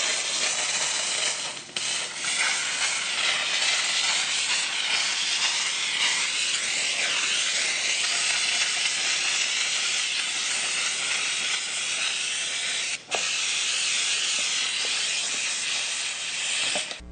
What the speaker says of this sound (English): that is the Comfort steam cleaner